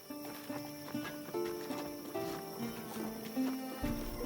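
Horse hooves clip-clop at a steady walking pace in the medieval strategy game Wartales, a regular soft patter layered under continuous game music, with no talking.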